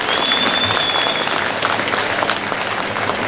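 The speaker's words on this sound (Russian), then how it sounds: "Аплодисменты, молодые!" Guests at a traditional Russian wedding from Zaonezhye, staged at an exhibition, applauding the newlyweds, with continuous dense clapping and a faint whistle early on, crowd noise underneath.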